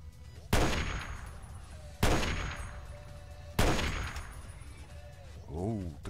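Three heavy gunshots in the video game Fallout 3 boom about one and a half seconds apart, each with a long echoing decay, followed by a brief rising whine.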